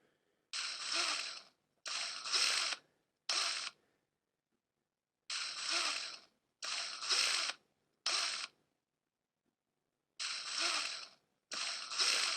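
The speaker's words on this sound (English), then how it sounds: "It is starting a drill, obviously." A drill starts in repeated short bursts: three groups of two or three brief revving whirs, each group separated by silence, close and clear with no voices.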